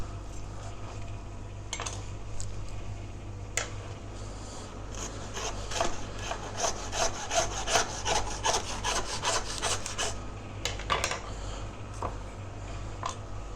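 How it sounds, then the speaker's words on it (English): A hand saw cuts through a lamb hip bone during butchery of a whole lamb in a farm shop, with steady rasping back-and-forth strokes, close and moderately quiet, quickening into a dense run of strokes midway. "then we'll cut through the hip bone here"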